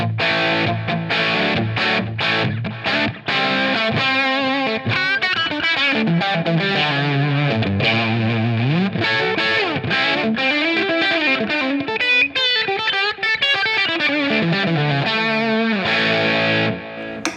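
Heavily distorted electric guitar on the bridge humbucker through a Line 6 HX Stomp Brit Plexi Normal amp model (Marshall Super Lead 100) plays a busy riff with chords and single notes, loud and continuous with no voices.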